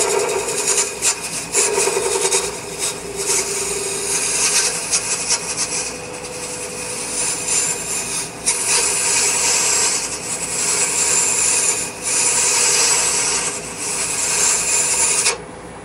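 Heavy wood-turning tool cutting wood on a lathe, giving a loud, continuous close rasping and shearing hiss that swells and fades as the tool moves across the spinning workpiece.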